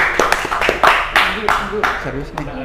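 Audience applause from the back rows of a live talk show audience, bursts of clapping mixed with voices and cheering, moderately loud and fading into talk toward the end.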